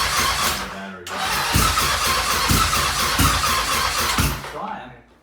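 A car engine cranks on a weak, dying battery and fails to start. The starter churns in a loud, pulsing rhythm with a squealing edge, cuts out briefly, then labours again before fading.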